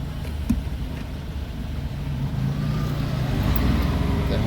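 A truck engine running at raised RPM during an exhaust regeneration with low urea level, a low steady rumble that swells slightly louder toward the end, close and continuous with no talking.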